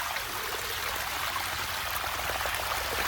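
Muddy pond water gushes steadily out of a gravity siphon draining a pond, a continuous close splashing flow with no voices.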